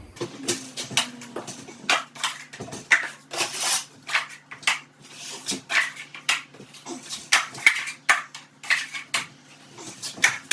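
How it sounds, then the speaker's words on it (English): A drywall taping knife spreads joint compound mud, producing quick repeated scraping and slapping strokes close by in an irregular working rhythm, with no voices. "When I'm putting the mud on, I'll try to curve my knife so the mud kind of doesn't fall out as easy."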